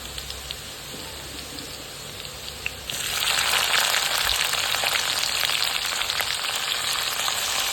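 Bitter gourd pieces drop into hot oil with reddened crushed garlic, and after a quiet moment a loud, steady frying sizzle breaks out and holds, close and alone.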